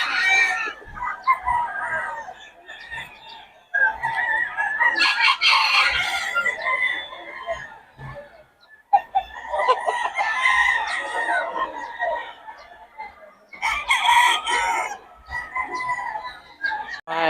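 A rooster crows loudly and close by in a string of repeated, drawn-out calls, with short gaps between the bursts.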